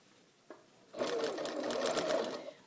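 A sewing machine runs steadily for about two seconds while stitching a curved quilting seam, close and fairly loud, its motor whir and rapid needle clatter beginning after a faint brief knock.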